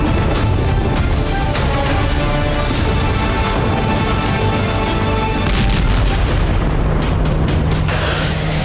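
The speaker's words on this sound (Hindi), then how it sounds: "शहर की एक सड़क पर रूस का ड्रोन गिरने से जबरदस्त विस्फोट हुआ।" A crashed Russian drone explodes on a city street in Siedlce, Poland, producing a loud, sustained booming roar with heavy low rumble and crackling bursts that fills the whole stretch without letup.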